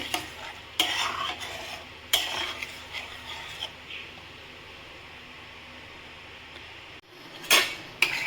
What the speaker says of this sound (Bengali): দইয়ের বাটিটা ধুয়ে একটু জলও এতে আমি দিয়ে দিলাম ভালো করে মিক্স করে নিচ্ছি